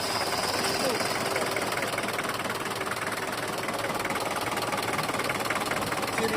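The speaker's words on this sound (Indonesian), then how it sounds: "Barangkali teman-teman penasaran mau dengar suara mesinnya, lanjut aja kita hidupin suara mesinnya." A diesel engine of a 2000 Daihatsu Taft 4x4 idles with a steady, dense clattering knock, loud and continuous throughout without any breaks.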